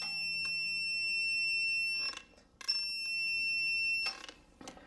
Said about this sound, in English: My torque wrench beeps at 100